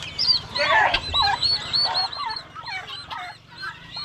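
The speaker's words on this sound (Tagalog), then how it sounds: "Sisiw ng pabo." Turkey chicks in a pen give a dense chorus of high, rising and falling peeps, many overlapping calls close by, over a low background hum.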